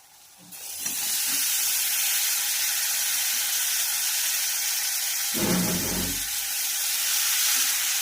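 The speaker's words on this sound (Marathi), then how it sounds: "पाणी घालून आपण पत्तागोबी कढईमध्ये टाकून घेऊया" Cabbage with water hits a hot kadai and sizzles as a loud, steady hiss with a brief burst of clatter midway, close and alone.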